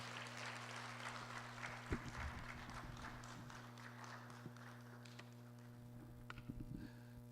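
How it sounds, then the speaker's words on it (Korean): Congregation clapping together in a Korean church revival service, a steady, rhythmic patter of many hands over a constant electrical hum, with a few sharper louder claps standing out. "우리 다 같이 사랑합니다 마음을 담아서 박수 치시면서 하겠습니다"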